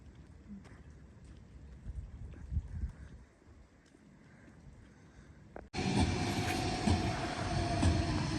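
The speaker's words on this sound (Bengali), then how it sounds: "ডেনমার্কের মেট্রো দেখেন" A Denmark metro train arrives: after several seconds of quiet outdoor ambience, a sudden loud, steady rushing roar of the train passing close by fills the rest of the clip, with no talking.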